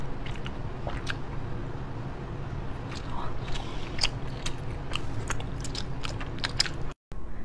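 Someone bites and chews a crunchy, chewy snack with popping pearls inside, giving close, crisp, irregular crunches and clicks over steady quiet background noise.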